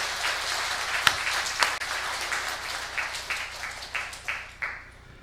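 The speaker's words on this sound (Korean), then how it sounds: "여러분이 칠 수 있는 최고의 박수로 하나님께 영광 돌리겠습니다." Korean Sunday worship congregation claps together in a church, a moderate wash of applause punctuated by a few sharp, louder claps, fading toward the end.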